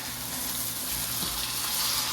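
Pork steak searing in a hot pan gives a steady, close, broadband sizzle that holds even and unbroken for the whole stretch, with no talking.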